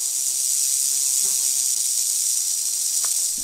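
A rattlesnake shakes its tail, the keratin segments producing a continuous, fast, buzzing hiss that stays loud and steady throughout, heard alone.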